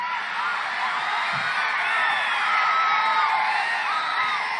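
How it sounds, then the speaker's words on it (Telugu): A large crowd at a Pawan Kalyan political speech claps and cheers happily, a sustained roar of whoops and shouts that holds steady and loud throughout. "ఆనందంగా చప్పట్లు కొడుతున్నారు కదా"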